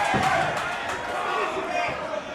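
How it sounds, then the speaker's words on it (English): Crowd at a Wimp to Warrior cage fight final, a dense roar of chanting and cheering that holds steady at close range, with a few sharp thuds cutting through. "the crowd getting behind Andrew here as the chants start"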